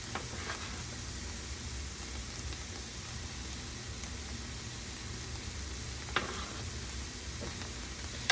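Broccoli, pepper and tomato sauté in a pan, giving a steady, soft sizzle like light rain that holds evenly throughout, with a few faint clinks of stirring near the end.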